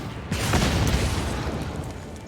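A Play with Fire burn spell striking the opponent in the card game MTG Arena: a single booming impact that swells into a sustained rumbling blast, loud, with no talk over it.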